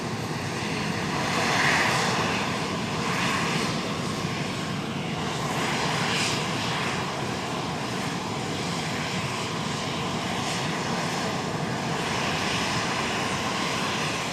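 A Ryanair jet lands at Edinburgh Airport with a loud, steady engine roar and whine holding throughout at close range, faint tonal hums layered above, and no speech.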